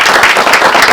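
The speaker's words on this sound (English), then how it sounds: "So I want us to give a hand of applause for that partnership with NES." An audience at a county event celebrating recycling facility upgrades breaks into loud, dense applause that fills the whole moment.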